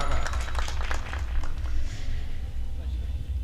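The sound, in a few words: audience applause at a mushaira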